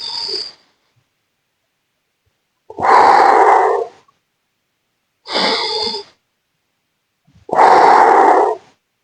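Four slow, audible breaths during stretching exercises, each a loud, close airy rush through the nose, separated by short silences, with no talking.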